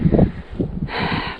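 Strong wind blows at a forest edge within view of the sea. It comes as low rumbling gusts buffeting the microphone, then turns into a steady broad rush of air, with no voices.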